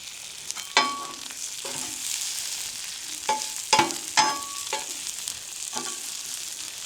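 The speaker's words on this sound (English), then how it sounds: "I think the potatoes and onions are about done" Potatoes and onions frying in a pan at an outdoor campsite, a steady soft sizzle with several sharp scraping clicks from a utensil scattered across it, no voices.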